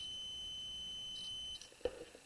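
A multimeter sounds a steady high continuity beep while testing conductive copper tape, a faint continuous tone held for over a second before it stops, followed by light handling noise.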